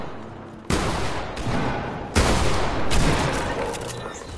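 Shotgun blasts in Fortnite ring out as two loud, sharp reports about a second and a half apart, each trailing into a rumbling decay over steady game noise.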